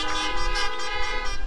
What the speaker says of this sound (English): Put your hands together and honk your horns for them.